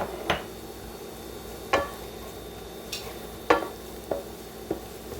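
Fresh garlic sizzling in a pan for linguine and clam sauce, a faint low sizzle under several sharp ticks and taps of a utensil on the pan.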